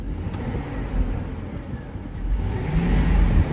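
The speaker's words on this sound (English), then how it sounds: "Let me give her a couple of revs just to see if it is missing." A flood-damaged GMT800 Chevrolet Trailblazer with about 70,000 miles, its engine revved at an auto auction lot: a low rumbling idle that climbs into a louder, steady rev toward the end, heard close up without talk.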